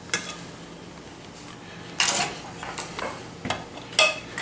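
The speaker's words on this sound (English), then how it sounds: "We'll just stir that in there." Butter being stirred into a red wine demi-glace sauce in a pan, quiet scraping with a few louder clinks of utensil against the pan at irregular moments.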